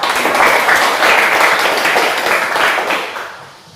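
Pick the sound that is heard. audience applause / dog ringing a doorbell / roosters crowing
audience applause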